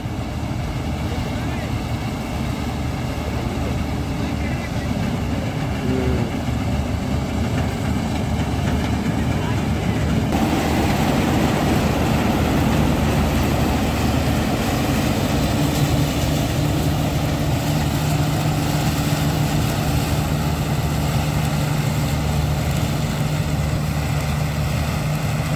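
A combine harvester engine runs steadily in a waterlogged paddy field, a loud sustained droning hum with low rumble that grows fuller partway through, constant and close.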